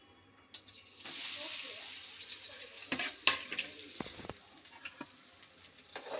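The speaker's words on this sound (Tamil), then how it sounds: "இப்போது கட் பண்ணி வச்சுருக்க வெங்காயத்தை போட்டுக்கலாம்." Chopped onions drop into hot oil for a curry-leaf chicken, and a loud, steady sizzling hiss starts abruptly and continues up close, with a few clinks and stirring knocks over it.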